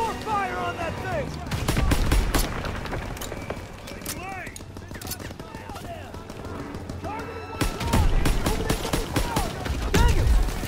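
Heavy gunfire fills a Call of Duty WWII campaign battle. Dense bursts and repeated volleys crash loudly around shouted voices and the noise of combat.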